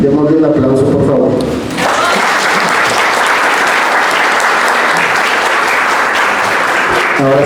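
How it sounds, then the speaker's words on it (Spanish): An audience at a presentation on discrimination against people with intellectual disabilities bursts into loud, sustained applause after some brief talk. Dense clapping fills the room for several seconds. "Démosle un aplauso, por favor."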